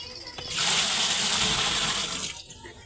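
Water gushes steadily out of an Astron single-tub washing machine that had a draining fault, a loud, close, continuous rushing flow that starts abruptly and then tapers off near the end.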